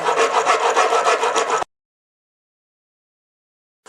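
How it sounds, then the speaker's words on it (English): Coarse file rasping back and forth along a wooden mandolin neck in quick rhythmic strokes, close and loud, stopping abruptly into silence. "I'm going to go to a slightly less coarse file."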